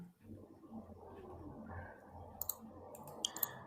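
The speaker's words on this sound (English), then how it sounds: "So I'm clicking on screen one." Computer mouse clicking, a few faint sharp clicks late in the clip over a quiet background hum.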